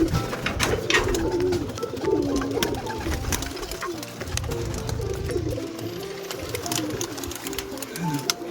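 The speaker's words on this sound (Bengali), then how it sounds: "সব পায়রা বাইরে চলে এলো, ছাড়া হয়ে গেছে।" Domestic pigeons coo steadily after being released from their loft, with several birds calling close by in overlapping, continuous murmurs and some background noise.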